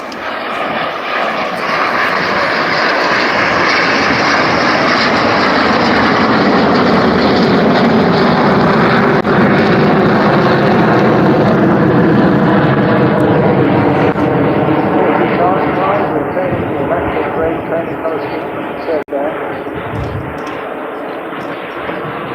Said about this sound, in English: Another aircraft